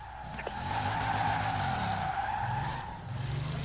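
Car tires skid and squeal through a long drift in Forza Horizon 4, a sustained screech over a throaty engine drone lasting a few seconds, close and loud with no speech.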